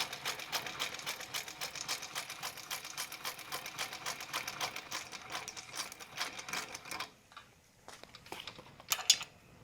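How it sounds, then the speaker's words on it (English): Singer 17-23 industrial sewing machine stitching through leather, a fast steady mechanical clatter of needle strokes running for several seconds, then stopping with a few scattered knocks and clicks. "as you can see, it sews leather fine"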